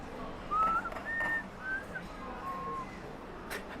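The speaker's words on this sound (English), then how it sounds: "I can't whistle very well" A person whistles a few short, wavering tones, some sliding up or down, with pauses between the phrases and a brief breathy noise near the end.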